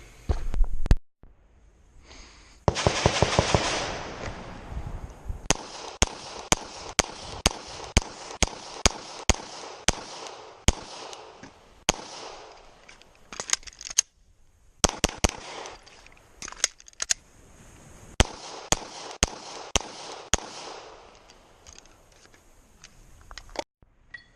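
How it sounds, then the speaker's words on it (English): Glock pistol firing a long string of sharp gunshots, some in quick bursts and others spaced apart, loud and close with brief quiet gaps between strings and no talk. "So anyway, do some shooting."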